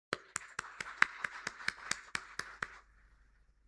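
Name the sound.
audience applause at a seminar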